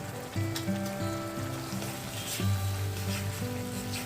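Ginger-garlic paste with turmeric, cumin and chili powders fries in a pan before chicken goes in, a soft steady sizzle under a tonal musical background, fairly quiet with no talk.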